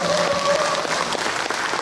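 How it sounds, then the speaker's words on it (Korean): An audience at a traditional Korean music society's founding anniversary concert in Jangsu, Jeonbuk, claps steadily in a dense, continuous burst of applause, with a brief voice at the start. "다시 한번 박수"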